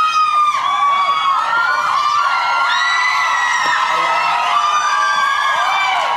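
A studio audience screams and cheers continuously for a pop star's arrival on a TV talk show, a loud, dense wall of high-pitched shrieks and whoops with a presenter's voice partly under it.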